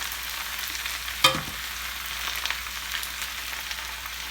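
Kale and grape tomatoes sauté in olive oil in a pan with a steady, close sizzle; a single sharp clack of a utensil against the pan cuts through once, then a few soft stirring scrapes.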